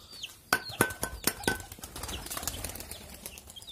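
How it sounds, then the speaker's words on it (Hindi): White pigeons take off, giving a few sharp, close bursts of wing flapping in quick succession, followed by lighter flutters and soft rustling against quiet surroundings. "दो कबूतर उड़ गए यार, ये वाइट वाले कबूतर अपनी मर्जी से उड़ गए।"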